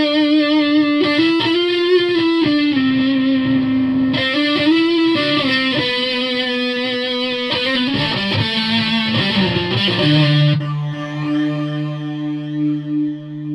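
Electric guitar run through a Zoom 606 multi-effects pedal with reverb, playing sustained distorted notes and bends with no talk over it, then letting a last chord ring out and decay into a reverb tail.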